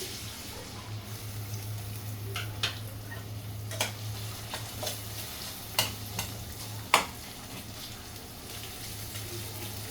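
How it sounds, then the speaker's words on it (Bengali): Onions sizzle in hot oil for a kala bhuna curry, a steady low frying hiss with a hum running underneath and scattered clicks and scrapes of a stirring utensil, close and moderately quiet. "আমার তেলটা গরম হয়ে গেছে, আমি এখানে পেঁয়াজ দিয়ে দিচ্ছি।"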